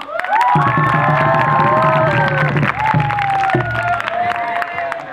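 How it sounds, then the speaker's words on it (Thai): An audience at a student welcome-camp performance claps and cheers loudly. Whoops and shouts rise over steady applause, dip briefly partway through, then continue. "ขอเสียงตบมือครับผม"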